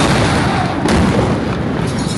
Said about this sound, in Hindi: लेबनान की राजधानी में जोरदार धमाकों की आवाज लगातार सुनी गई।